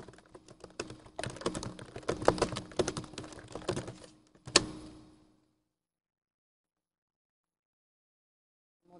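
Quick, uneven tapping on a computer keyboard for about five seconds, close and fairly quiet, then near silence.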